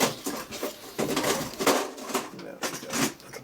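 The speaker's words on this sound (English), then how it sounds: "Excuse the noise in the background while I'm putting things away." Dishes and cutlery being put away in the background, scattered clinks and clatters at moderate distance, mixed with rustling and a voice talking over it.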